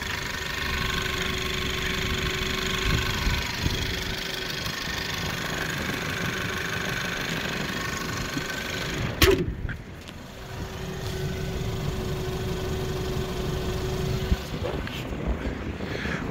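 A 2019 Ford Edge engine idles steadily in the engine bay, a continuous mid-pitched hum with a faint tonal whine, briefly interrupted by a thump or click around the middle before settling back to the same even idle.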